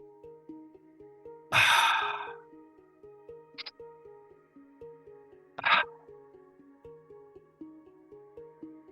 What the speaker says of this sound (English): The breathing in this round would sound like this.